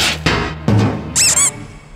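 A cartoon squeak effect chirps twice in a quick high pitched pair, rising and falling, following a few louder thumps and clanks in a children's construction cartoon.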